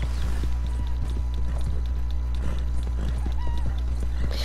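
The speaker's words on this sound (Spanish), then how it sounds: "ya bajémosle porque nuestro caballito está que se le salía el corazón del pecho" Hooves clip-clop at a steady gallop from a horse ridden in the video game Red Dead Redemption 2, with a brief whinny and game ambience running underneath throughout.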